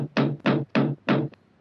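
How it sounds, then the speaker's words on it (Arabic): Four firm knocks on a door in an animated children's story, evenly spaced and close, followed by a faint fifth tap. "إذا به يسمع صوت طرق على الباب فجأة"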